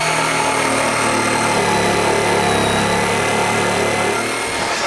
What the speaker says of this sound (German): die schneiden wir jetzt einfach mit der Stichsäge ab